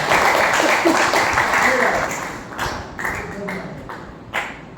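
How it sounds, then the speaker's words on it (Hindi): Audience applause for a doctor at a gathering, a broad wash of clapping that thins out after the first couple of seconds into scattered claps. "तो तालियां होनी चाहिए पहले तो डॉक्टर साहब के लिए।"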